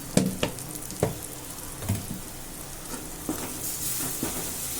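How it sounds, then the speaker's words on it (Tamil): Chili powder and turmeric sautéing in a pan for capsicum gravy, a soft steady sizzle with periodic scraping taps of a spoon stirring against the pan, close and fairly quiet. "இதை போட்டு நம்ம நல்லா மிக்ஸ் பண்ணி விட்டுக்கலாம் நல்லா வதக்கட்டும்"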